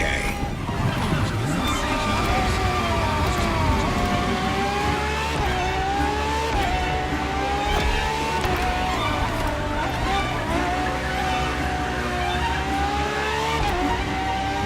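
A Ferrari FXXK supercar, a track-only LaFerrari derivative, screams through a racing video game, its engine note climbing and dropping with repeated gear changes for the whole stretch while a commentator talks over it.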